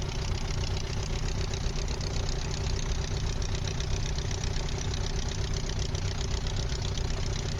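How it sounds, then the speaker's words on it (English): A Piper J3 Cub light aircraft engine in Microsoft Flight Simulator 2024 drones at idle, low and even with a faint rhythmic knock, running continuously without any voices. "Engine sounds really good at idle and at low RPM."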